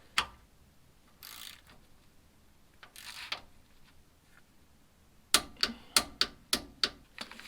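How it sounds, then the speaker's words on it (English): A torque wrench set to 36 foot-pounds tightens a Toyota rear differential drain plug. A few scattered ratchet clicks come first, then a crisp burst of six or seven sharp, close clicks near the end. "We have our torque wrench set up to 36 foot-pounds here."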